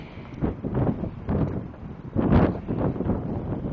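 Gusty wind buffets a microphone outdoors in a garden allotment, a steady low rumbling roar that swells and dips in waves, with the strongest gust about two-thirds through and no speech.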